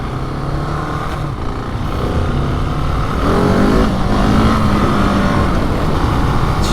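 A KTM 701 Enduro single-cylinder motorcycle accelerating on a road, its engine droning loud and close as the pitch climbs and shifts through gears, with wind rush over the rider's microphone.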